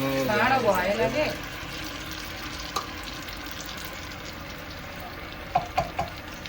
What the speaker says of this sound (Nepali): ल दिदीले चाहिँ सेलरोटी हाल्दै हुनुहुन्छ नयाँ वर्ष